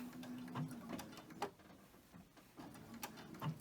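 A sewing machine stitches a pillowcase seam at a slow start, with a faint, steady mechanical whirr and light repeated ticking, heard alone at low level.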